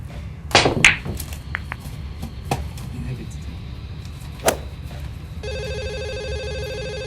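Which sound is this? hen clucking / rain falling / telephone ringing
telephone ringing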